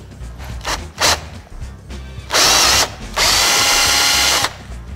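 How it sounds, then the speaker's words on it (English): A power drill with a 3/16-inch bit runs in two loud bursts, the second longer, grinding through metal after a few short starts. "Now we can switch to the 3/16 bit and drill through."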